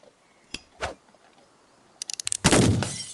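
Gunshots fired at bottles in a western video game: a couple of isolated pops, then a quick burst of sharp cracks followed by a louder, sustained blast with shattering noise, close and without talk.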